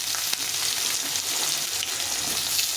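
Potatoes fry in hot oil in a pan after the spices are tempered, a dense, steady close sizzle with faint stirring clicks and no talking.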